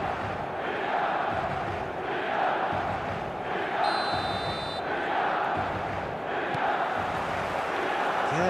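Stadium crowd in the eFootball video game cheering and chanting in rhythmic swells, loud and continuous, with a brief high whistle-like tone partway through.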